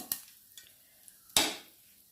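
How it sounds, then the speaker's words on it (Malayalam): Mustard seeds and asafoetida hit hot oil for lemon rice, giving a few faint crackles and one sharper sizzling burst with a spoon clink, quiet and brief with no talking. "ഇതിലേക്ക് കുറച്ച് കടുക് പിന്നെ കുറച്ച് കായപ്പൊടി അത് നന്നായിട്ട് മൂത്ത് വരട്ടെ"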